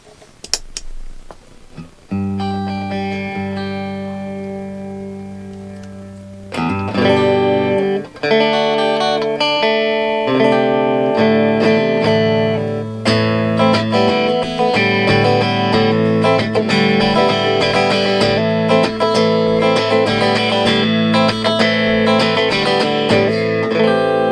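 An electric guitar plays clean, with no reverb, through a Monoprice 15-watt valve amplifier, both pickups on: ringing chords and notes that sustain and overlap, loud and close.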